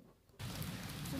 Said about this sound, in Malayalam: ഇപ്പോൾ മഴ ഇപ്പം തീർന്നിട്ടില്ല, മഴ പെയ്തുകൊണ്ടിരിക്കുകയാണ്.